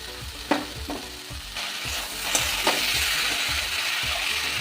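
Ground poppy seed paste going into a frying pan with tomato, a close, continuous sizzle broken by regular scraping and stirring strokes of a spatula against the pan.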